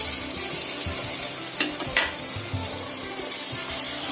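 Whole spices and ginger garlic paste are stir-fried in a pan for a vegetable pulao, giving a steady close sizzle broken by a couple of scraping stirs.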